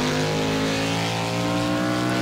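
A Caper Monterey stock car engine in Project Cars revs hard against the limiter, a sustained buzzing drone with steady stacked harmonics, loud and continuous, without any voice over it.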